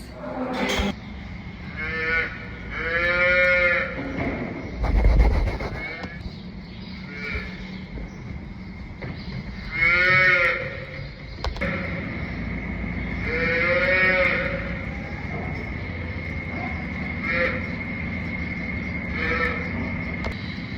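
Several cows moo repeatedly in a straw-bedded maternity pen inside a farm barn, drawn-out calls coming every few seconds at moderate distance over a steady low hum of barn ambience.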